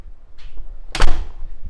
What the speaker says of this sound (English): I'm coming out the kitchen double French doors.